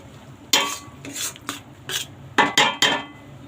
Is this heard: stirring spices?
yes